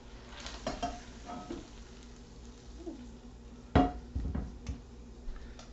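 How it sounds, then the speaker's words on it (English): Hot greasy taco meat tipped from a pan into a metal colander in a kitchen sink: a sharp clatter and splash near the four-second mark, with lighter scraping and knocks before and after, close and unvoiced. "I'm just going to empty this and get rid of some of this grease in here."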